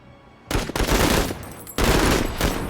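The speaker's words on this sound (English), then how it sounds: "I think we just have to shoot them" Loud bursts of automatic gunfire in the tactical game Menace as alien eggs are shot at, two long sustained volleys split by a short pause.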